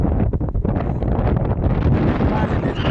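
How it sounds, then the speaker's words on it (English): Strong wind buffets the microphone on a windsurfing beach at Sotavento, Fuerteventura, a constant loud roaring rumble with gusty swells and no pause. "But the wind is bloody annoying."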